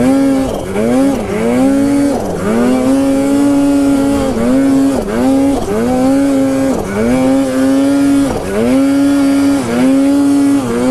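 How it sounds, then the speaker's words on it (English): A saw cuts through a log outdoors in snow, its loud, close engine rising and dipping in repeated strained cycles roughly every second and a half as it bites into the wood, with no talking. "I've got the saw out, and I gotta do some sawing here."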